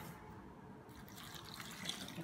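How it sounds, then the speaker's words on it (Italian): Water runs from a kitchen tap into a bowl to wash fresh strawberries, a steady soft hiss and splash with faint dripping, fairly quiet and with no talk. "mettiamo un po' di acqua"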